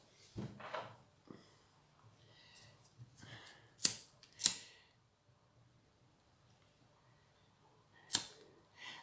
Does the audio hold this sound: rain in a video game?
no